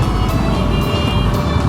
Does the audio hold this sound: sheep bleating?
no